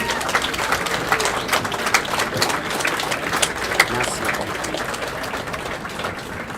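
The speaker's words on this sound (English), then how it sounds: "so give them a round of applause, please" At a season awards ceremony, a crowd gives steady, moderately loud applause for the sound and lighting crew, many overlapping claps with scattered voices underneath.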